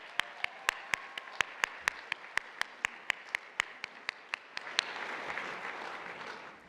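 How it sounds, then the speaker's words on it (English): Banquet audience applause at an annual chamber of commerce awards dinner begins with a steady run of single sharp near claps, then swells into a dense roomful of clapping. "Let's give them a round of applause."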